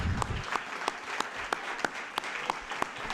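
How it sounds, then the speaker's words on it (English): A small group at a board meeting applauds with sparse, evenly spaced claps, close by and modest in volume, lasting only a few seconds. "thank you for the applause"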